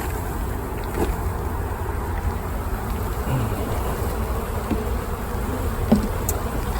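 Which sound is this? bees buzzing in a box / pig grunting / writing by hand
bees buzzing in a box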